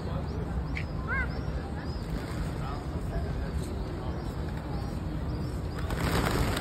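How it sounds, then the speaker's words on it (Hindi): Pigeons flutter and coo faintly in a busy outdoor courtyard at Masjid an-Nabawi in Medina, their short calls and wingbeats half lost in a steady crowd murmur and distant voices. "मस्जिद नबी के कबूतर"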